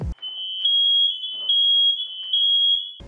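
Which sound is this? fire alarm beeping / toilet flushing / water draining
fire alarm beeping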